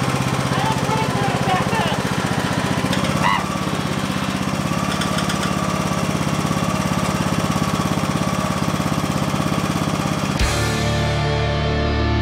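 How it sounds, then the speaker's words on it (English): Lawnmower engine running steadily and loudly while cutting down overgrown weeds, a constant mechanical drone lasting over ten seconds before cutting off abruptly near the end. "We got our lawnmower, we're fixing it up and getting ready to start mowing all these weeds down."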